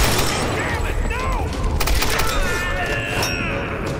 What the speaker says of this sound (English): That's right, I got a machine gun.